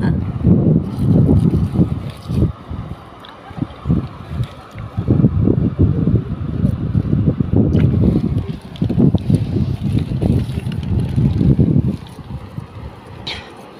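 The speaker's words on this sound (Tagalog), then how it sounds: "lumalakas na yung hangin" Strong wind at a beach roars and buffets the microphone in heavy, continuous gusts, with low rumbling surges throughout and no clear voices.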